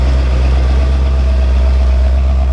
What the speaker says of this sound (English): Let it sit here and idle.